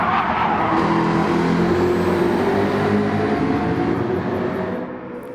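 A race car in the Gran Turismo video game at full throttle, a loud sustained engine roar with a rising, shifting pitch that fades slightly near the end.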